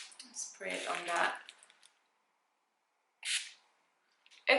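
A VANI-T setting mist spray bottle gives short, close hissing sprays: one longer burst, a brief second burst after a pause, and another starting at the end, with quiet in between.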